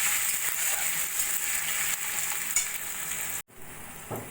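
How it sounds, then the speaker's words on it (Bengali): Cashews fry with spices, green chilli and grated ginger in a wok, giving a steady, bright sizzle with light stirring scrapes, a brief cut to silence, then the sizzling resumes. "কাজু দিয়ে মশলার সঙ্গে একটু ভাজা ভাজা করে নেব"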